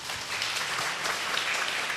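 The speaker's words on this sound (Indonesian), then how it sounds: "Tepuk tangan buat Ibu." Audience applause for a woman at a Buddhist question-and-answer talk, a steady wash of many hands clapping throughout, fairly loud and close, with no talking over it.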